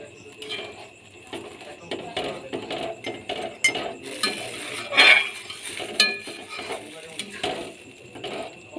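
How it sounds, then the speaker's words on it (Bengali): Metal spoon scraping and clinking against a pot while sago is stirred into boiling dal, a run of busy irregular clatters and scrapes close by, with a faint sizzle underneath. "এবার ডালটা ফুটে এলে এর মধ্যে আমি সাবুদানাটা দেব, দিয়ে ভালো করে মিশিয়ে নেব।"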